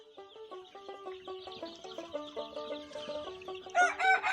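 Tiger breed chicks cluck and chirp steadily in a close group, a busy layered chatter of many birds, rising into a louder burst of calls at the end.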